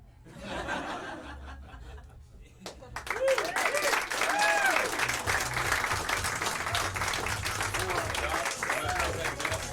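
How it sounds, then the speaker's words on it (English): Audience applause at a student stand-up comedy showcase, starting thin then swelling into steady, dense clapping from the crowd, mixed with scattered laughter and chuckles and some voices talking over it. "Let's keep that applause going, keep that energy going for your next topic."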